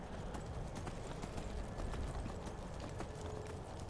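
Horse hooves clip-clop steadily in Skyrim, a fairly quiet, even trotting rhythm over a constant low background rumble, with no voices.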